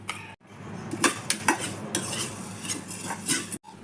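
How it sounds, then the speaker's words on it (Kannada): Cumin seeds and peppercorns dry-roasting in a pan without ghee, stirred with repeated scraping and rattling strokes of a metal spoon against the pan, close and fairly loud, with short pauses at the start and end. "ಈ ಥರ ಜೀರಿಗೆ ಕೆಂಪಾಗೋವರೆಗೂ ಹುರ್ಕೋಬೇಕು."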